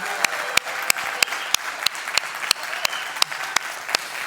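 Steady clapping and cheering from a church congregation, sustained applause with sharp individual claps standing out throughout.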